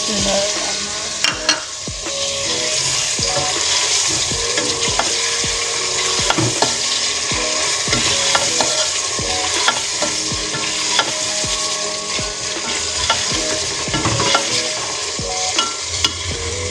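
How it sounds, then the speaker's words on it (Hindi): Ginger, garlic and tomatoes frying in a pan for a gobhi chicken recipe, with a loud continuous sizzle and frequent scrapes and knocks of a spoon stirring throughout. "अब टमाटर भी डालते हैं इसके अंदर।"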